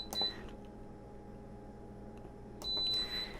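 An Instant Pot electric pressure cooker, being set for high-pressure cooking, gives two short, clear electronic beeps, one at the start and one near the end, in a quiet kitchen.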